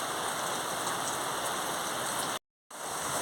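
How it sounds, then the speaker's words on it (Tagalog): Steady rain hisses down during a barefoot run, a dense even patter that fills the whole clip, broken only by a short gap of silence near the end. "Nagpabasa na kami sa ulan."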